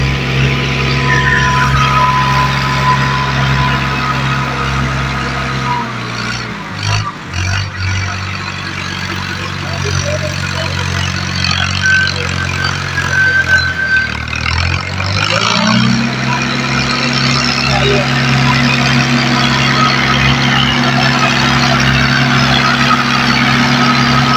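A tractor engine runs loud and steady in a muddy, waterlogged field, its low drone dipping and rising twice as it pulls itself free without tracks or chains, with a crowd around.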